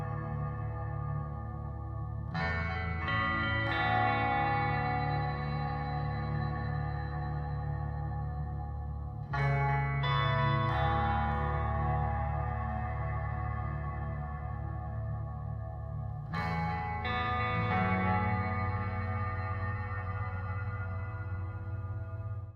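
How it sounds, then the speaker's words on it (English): Reverb-drenched electric guitar in a track, sustained chords over a steady low bass drone, with three bright re-struck swells spaced several seconds apart, loud and continuous with no voices. "And there's the guitar."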